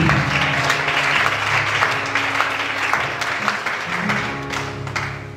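A church congregation applauds and cheers during a worship service, with sustained, dense clapping and crowd noise running steadily throughout, fairly loud and close, with a few voices mixed in.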